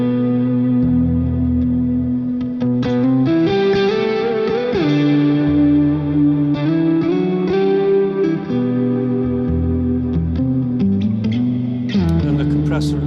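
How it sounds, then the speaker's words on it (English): Guitar played through a plate-style reverb with modulation and the delay switched off, sustained chords and notes ringing out with a shimmering, washy tail, loud and continuous without a break. "plate style reverb with some mods"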